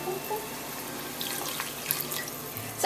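Water pours steadily into a pot of quick mushroom, garlic and ginger broth for yu choy in oyster sauce, a soft continuous splashing stream at moderate level with no talking.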